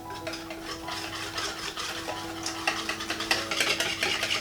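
A whisk scrapes and clatters rhythmically against a bowl of vegan pancake batter, speeding up toward the end, close and fairly loud with no talking.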